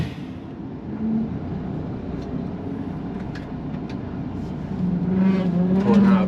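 A car engine idles and then revs gently as the car pulls out of a parking space, a steady low rumble that swells near the end, with no voices.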